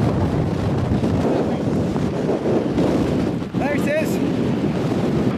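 Strong wind buffets a hilltop above the sea, a loud continuous blustery roar hitting the microphone, with a brief lull and someone speaking briefly over it.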